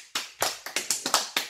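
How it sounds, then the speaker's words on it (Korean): Hands clapping in a home setting, seven or eight sharp, distinct claps in a loose, uneven rhythm, close and fairly loud with no talking over them. "박수 치고."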